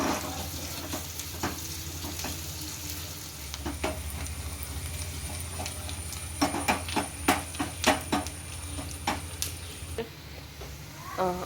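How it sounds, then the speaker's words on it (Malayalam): Shallots and curry leaves sizzle in hot coconut oil for a Kerala-style mango egg curry, a steady frying hiss broken by clinks and stirring scrapes, growing busier toward the end. "അപ്പോൾ കുറച്ച് വെളിച്ചെണ്ണ ഒഴിക്കുക, ചുവന്നുള്ളിയും വേപ്പിൻ്റെ ഇലയും."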